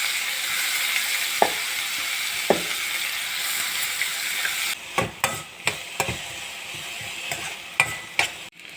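Chopped onions fry in hot oil with mustard seeds and green chillies in a kadai, giving a steady loud sizzle, then a spoon stirs them with repeated sharp scrapes and knocks against the pan.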